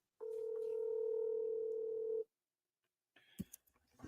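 A steady telephone dial tone hums loud and unbroken for about two seconds as a call is placed, then cuts off, followed by faint clicks and line noise.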